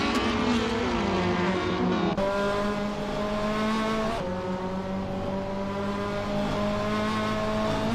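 A 2006 BMW 320i leads a pack of race cars at the Autosport Speedway short track in a racing game, steady loud engine drone with gear shifts and shifting pitch, continuous throughout.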